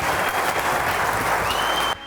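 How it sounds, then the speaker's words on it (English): Audience applause breaks out at a bass fishing team championship on the Red River, a dense, steady clatter of many hands that holds evenly for about two seconds before cutting off abruptly. "One more round of applause for these guys."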